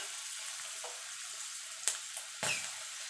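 Vegetables frying in oil in a pan, a quiet steady sizzle with a couple of sharp scrapes and clinks from a spatula stirring.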